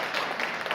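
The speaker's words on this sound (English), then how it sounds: "Let's keep the applause to a minimum" A brief burst of audience applause at a 2022 Anne Arundel County Executive debate, dense, steady clapping from a crowd filling the room for under a second.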